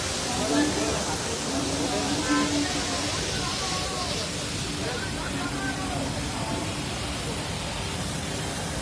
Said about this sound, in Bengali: পিছনে জল আছে